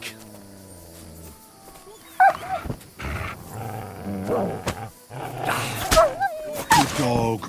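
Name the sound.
dog barking in a video game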